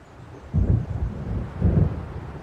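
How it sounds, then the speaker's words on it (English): Thunder from an approaching storm in the video game Alan Wake rolls in two deep, rumbling swells, each rising and fading over about a second, fairly loud, with no talking. "It seems there's a storm coming."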